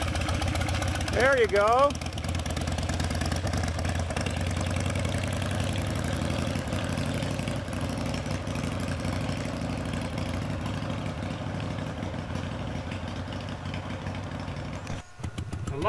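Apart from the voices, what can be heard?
custom Harley Davidson motorcycle engine idling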